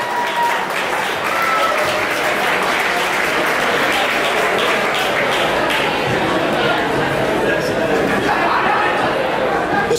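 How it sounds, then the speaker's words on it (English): Audience applauding steadily for a mother and son at a performance, a dense sustained wash of clapping lasting throughout with crowd chatter mixed in. "let's have a round of applause for Stephan and his mom"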